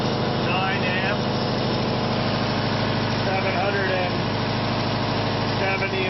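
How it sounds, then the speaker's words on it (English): A ReGen-X motor runs steadily on 100 volts input at 1.9 amps, about 770 RPM, giving a continuous droning hum throughout, with a person talking over it. "I'm running the ReGen-X motor with 100 volts of input"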